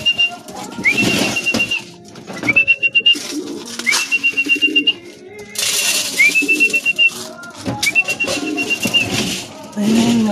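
A pigeon at a racing club in Lucena, Quezon, amid a busy, noisy backdrop, with a repeated bright rising whistle-like call sounding about five times at a steady pace, close and clear.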